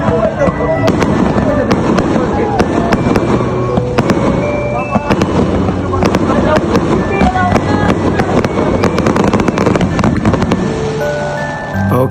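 A Hari Raya fireworks show at a village gate bursts in rapid, loud cracks and booms that continue throughout, with crowd voices and traffic noise underneath.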